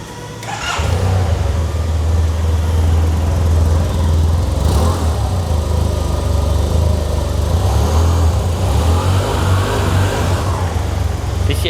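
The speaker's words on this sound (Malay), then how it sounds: "untuk T-Max bunyi dia memang sedap. So kita dengar bunyi sikit boleh." A Yamaha TMAX 530 scooter engine revs loudly and steadily up close, a deep continuous rumble with a slight rise in pitch toward the end.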